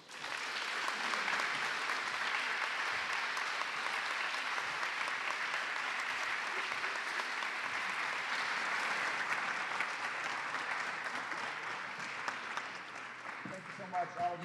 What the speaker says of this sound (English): let's give a warm Pittsburgh welcome to Secretary Arne Duncan